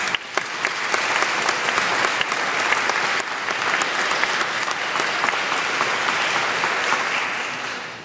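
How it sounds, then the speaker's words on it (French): A church audience applauds together in a dense, steady burst of many hands clapping, loud and sustained for several seconds before tapering off slightly, with no speech. "On peut les applaudir."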